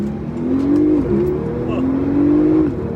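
A 2017 Porsche 911 Turbo S in sport mode drones from inside the cabin, its engine note rising, dipping briefly, then climbing again in a steady, moderately loud rev.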